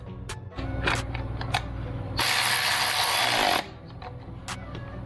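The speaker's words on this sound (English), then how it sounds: "So we're gonna go ahead and start bolting these guys back in." Close, loud bursts of tool clicking and whirring come from a ratchet or power driver running bolts back into an oil filter housing, with a longer sustained run in the middle.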